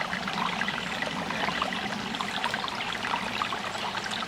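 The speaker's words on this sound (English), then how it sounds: "I'm at this little creek not far from our cabin," A small creek near a cabin flows steadily, a continuous close, fairly loud rush and trickle of water with no voices.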